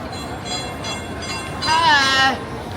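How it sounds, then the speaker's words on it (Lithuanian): A small tourist train rolls into a pedestrian zone with a low running rumble, then sounds a bright, sustained horn tone, while voices talk nearby. "Atvažiuoja traukinukas."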